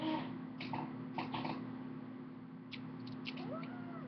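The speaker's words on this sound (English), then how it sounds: "This is my cat, Sissy." Sissy, a pet cat, gives several short chirpy meows with rising and falling pitch, close by and fairly faint, over a steady background hum.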